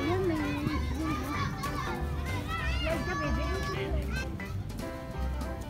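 Crowds of children play outdoors at night on Katara Beach in Doha, Qatar, with lively shouting and chatter close by and further off, and a steady thumping beat underneath.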